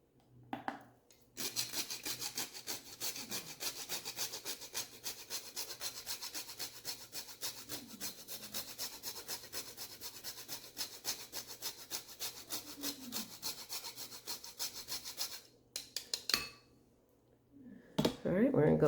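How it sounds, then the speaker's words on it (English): Whole nutmeg ground on a grater into scone batter, with rapid scraping strokes in a steady run for about fifteen seconds, close and fairly quiet, followed by a brief clatter. "So you just take a little nutmeg and we're going to grind it right into there"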